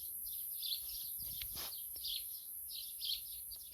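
Birds chirp around an apricot tree, with bright repeated calls and short tweets coming in bursts, moderately close, over a steady high-pitched background hiss and faint low rumble.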